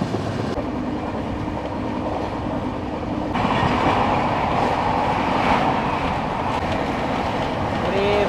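A new LHB-coach Howrah–Dhanbad Black Diamond Express pulls out of a station, a loud steady rumble and roar of the rolling train that swells partway through, with faint rhythmic clatter and a voice speaking briefly.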